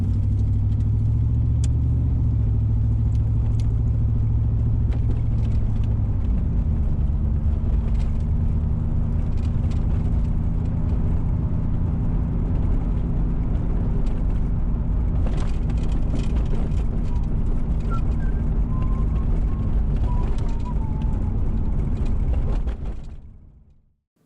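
A stock 305 V8 in a 1992 Camaro cruises around town, its steady low engine drone and road rumble continuing unbroken for about twenty-three seconds before cutting off.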